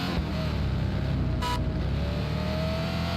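Sports car driving in an American City Fast Car Driving 2021 Android game, a loud continuous engine drone with a brief higher burst midway, steady and close.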